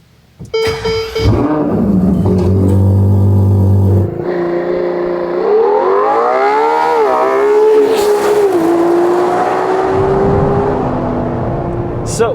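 A Ferrari 812 Competizione V12 starts and revs hard, engine note climbing and falling through gear changes as it accelerates, loud and close throughout, with some speech faintly underneath.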